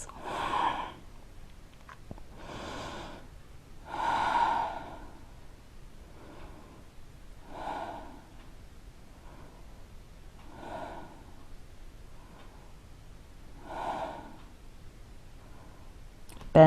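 Slow, deep yoga breaths, each inhale and exhale a soft airy rush close by, repeating about every one and a half to three seconds over a quiet room.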